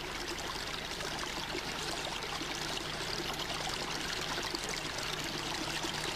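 Steady, broadband water noise of a slowly flowing stream runs continuously without pause, soft and even, with no voices.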